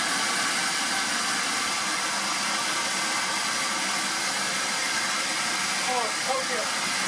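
A bee vacuum runs during the capture of a bee hive, giving a steady, loud whooshing motor hiss that holds unbroken throughout, with faint sounds near the end.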